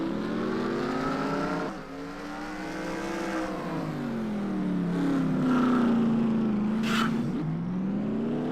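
IndyCar race cars in a racing broadcast scream continuously at high revs, engine pitch rising and falling through gear changes as cars close in and pass, loud throughout with a sharp burst near the end.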